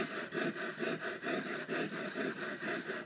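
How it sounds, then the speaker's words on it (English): A serrated knife is rubbed back and forth on a ceramic honing rod, its edge seated in the scallops, giving a close, rhythmic gritty rasp that repeats about every third of a second in even strokes. "fit the rod into the scallops of the serrations, and rub back and forth."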